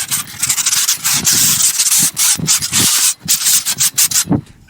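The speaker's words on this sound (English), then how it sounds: "now the next step is you want to sand it." Rhythmic scratchy sanding strokes rasp back and forth across drywall joint compound, close and loud, with brief pauses between passes.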